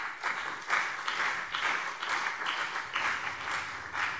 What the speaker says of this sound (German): Und deswegen ein riesiger Applaus für die Ermittler.